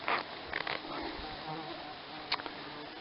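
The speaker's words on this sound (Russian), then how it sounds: "И нас тоже едят комары." Mosquitoes whine faintly around people picking berries outdoors, with short buzzing bursts near the start and another toward the end over a steady background hiss.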